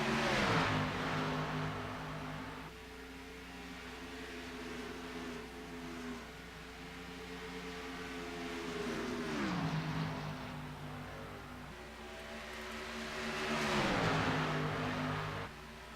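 Race cars in a racing video game battle on track in an Xfinity Series round at Texas, with several engines whining and rising and falling in pitch as they rev, shift and pass, loud and continuous.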